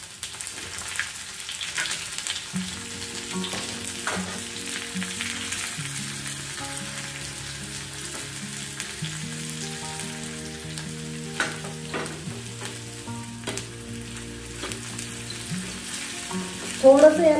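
Asafoetida, finely grated ginger and green chili sizzle and fry in hot oil as a tempering for instant ragi idli batter, a steady crackle with occasional stirring and no talk.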